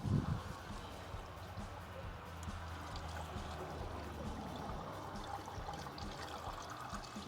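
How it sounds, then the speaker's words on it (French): Water pours steadily into a watering can from a chicken coop water system, a faint continuous trickle and splash after a short clunk at the start. "On va tester donc la deuxième étape en venant verser dans l'arrosoir également pour vérifier que tout se passe bien également."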